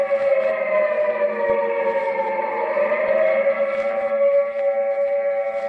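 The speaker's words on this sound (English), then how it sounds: "The siren is a musician of no value, knowing only one tune" An air raid siren holds a steady, wailing tone with rich layered harmonics. It stays loud and even, with only a slight swell, and no other sound intrudes.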